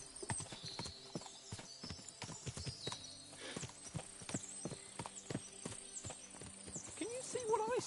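Horses clip-clopping and whinnying in the medieval game Kingdom Come: Deliverance II, with a steady patter of hooves throughout and a neigh near the end, under talk.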